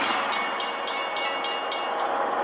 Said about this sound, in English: Either direction, this train is on its way.